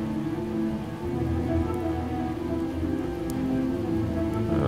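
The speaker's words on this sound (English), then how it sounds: "we gotta get out of this rain" Steady rain in Project Zomboid pours continuously onto surfaces, a dense, even patter of drops that holds at a constant level throughout, with no speech.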